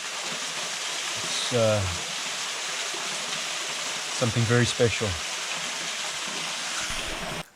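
Water rushing through a deep gorge in the Yorkshire Dales, a steady broadband roar like a stream or waterfall, continuous throughout, with someone talking briefly over it.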